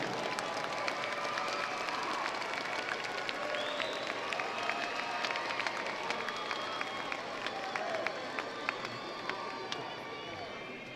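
A large crowd of graduating high school seniors applauding their parents at a graduation ceremony, a dense, steady wash of clapping that holds through the whole stretch with scattered cheers and voices mixed in.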